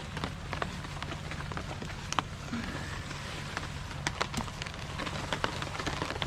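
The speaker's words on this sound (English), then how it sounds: "Yeah, it's still raining." Rain patters on a small tent during bicycle wild camping, a steady close hiss with scattered sharper drop taps throughout and no voices.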